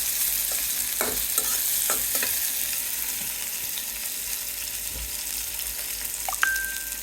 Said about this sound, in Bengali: চুলার মধ্যে পেঁয়াজ, কাঁচামরিচ দিয়ে নিলাম।